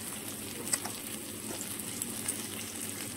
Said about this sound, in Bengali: মশলার সাথে সবগুলোকে ভালো মতন এখানে কষিয়ে নিতে হবে